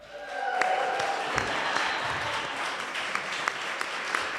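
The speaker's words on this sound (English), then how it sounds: "let's hear another round of applause for all our contestants tonight" A comedy club audience applauds the winner of a stand-up contest, steady clapping with a few sharp individual claps and cheers, fairly close and continuous after a quick start.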